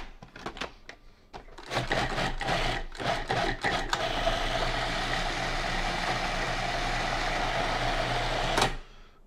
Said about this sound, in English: the dehydrated chilies are gonna take a while to blend, so we're gonna let this thing run for just a little bit